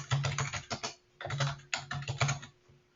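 Computer keyboard keys clatter in quick, close bursts as a folder name is typed, with a short pause between groups of keystrokes.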